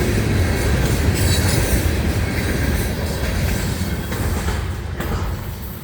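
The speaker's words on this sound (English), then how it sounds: "The rock train." Florida East Coast rock train rolling steadily past, a continuous loud rumble of railcars and wheels on track with faint clicking and occasional squeals.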